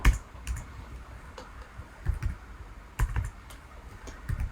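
Fingers type on a computer keyboard with irregular, crisp key clicks and a few louder taps, close and alone with no speech.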